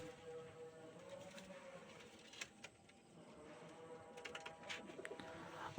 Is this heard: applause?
no